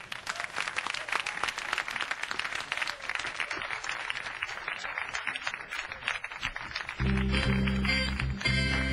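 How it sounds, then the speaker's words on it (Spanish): Audience applause for a guest at a live music show, a dense, steady wash of clapping that runs for about seven seconds before deep band music starts underneath and takes over. "un aplauso grande para el invitado de esta noche"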